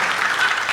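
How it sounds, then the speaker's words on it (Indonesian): A brief burst of steady applause from a church congregation, dense and even, lasting under a second. "Tepuk tangan dulu buat beliau."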